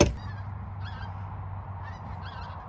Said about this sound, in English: Flock of geese flying over here.